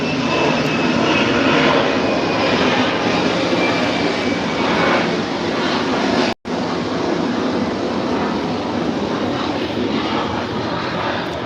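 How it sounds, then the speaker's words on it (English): A propeller airplane drones loudly overhead in a steady, continuous roar that fills the whole stretch, broken only by a brief dropout partway through. "oh, plane."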